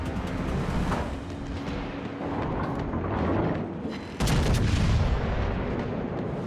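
Heavy naval gunfire from the battleship North Carolina's main guns in World of Warships, loud booming salvos rumbling continuously, with a sharp fresh blast near the end over sustained low battle noise.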